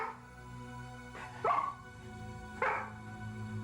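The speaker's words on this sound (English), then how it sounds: "And finally, the barking started." A dog named Ribbon gives two distinct barks about a second apart, moderately close against a quiet background hum, with no talking.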